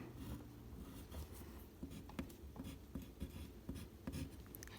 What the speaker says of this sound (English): I will be starting by writing my name